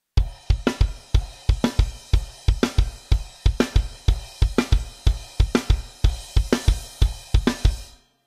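Steady, driving rock drum groove from a bridge section, with bass drum hits woven into the beat alongside snare and cymbals, played up close and loud for about eight seconds before stopping abruptly.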